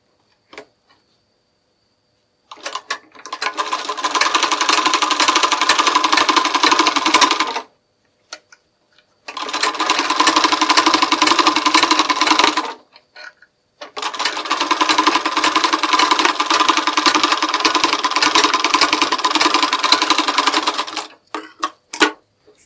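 Sewing machine stitching blouse fabric for a hem, running in three long steady whirring bursts of rapid needle clatter separated by short pauses, loud and close with no talk.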